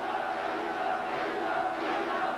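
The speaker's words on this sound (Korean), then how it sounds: "네, 관중들의 함성입니다" Boxing arena crowd roaring at an IBF super bantamweight title fight, a dense continuous wall of cheering and shouting that stays loud and steady throughout, with no clear single voice standing out.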